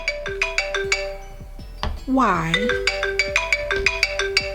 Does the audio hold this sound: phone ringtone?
yes